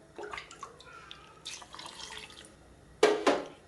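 Hot liquid poured into a pot of salted pepper rasam, with faint drips and trickles at first, then a louder, close splash and pour near the end. Nobody talks.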